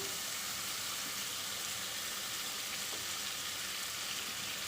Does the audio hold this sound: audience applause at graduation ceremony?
no